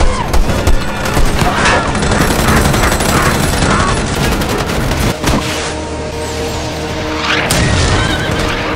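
Gunfire in a Planet of the Apes film battle as the ape army charges on horseback with guns: loud, dense volleys and booms, mixed with horse whinnies throughout.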